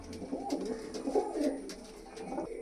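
A large female pigeon coos in soft, low, rolling phrases, close and fairly quiet, with a few faint clicks and no talking.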